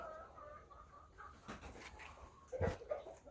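A young Burmese rooster clucks and calls softly in short bursts outdoors, faint and close, with a sharper louder cluck near the end over quiet background hiss.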